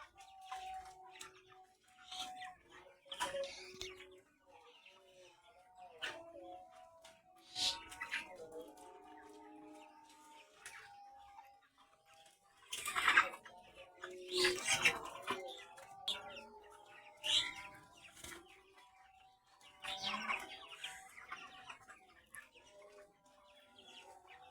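Ten-day-old poultry chickens on a farm make soft, faint, scattered clucks and chirps in bursts, sounding fairly distant.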